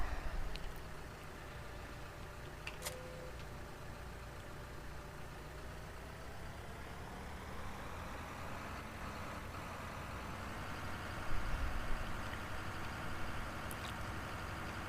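A tractor engine in the farming video game Farming Simulator 2013 drones steadily at a low idle-like rumble, with a faint whine and occasional small clicks, and no talking.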